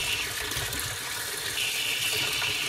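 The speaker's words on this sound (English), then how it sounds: "rinse that out, put a little water in that, put a little water in there" Tap water runs steadily into a container being rinsed while preparing a pork-based raw grind, a continuous close splashing wash with no talk.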